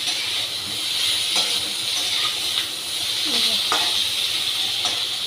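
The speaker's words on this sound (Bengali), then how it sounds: "আদা দিয়ে একটু আদাটা ভাজবো একসাথে মিক্স করে" Ginger fries in a pan with a constant soft sizzle and hiss, with a few faint stirring clicks over it.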